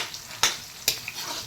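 Onion, chili and garlic hitting a hot pan for a bagoong dish, producing a soft sizzle with two sharp crackling bursts close by.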